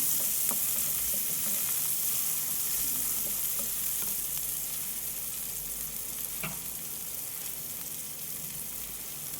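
Crushed garlic frying and being stirred in a pan while cooking a green beans curry, a steady soft sizzle with occasional scraping clicks of the spoon, close and alone.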